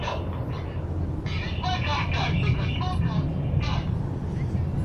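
Red Arrows aerobatic jets roar past at the Canadian International Air Show, a loud sustained engine rumble and whine heard from the ground while a commentator speaks over it throughout.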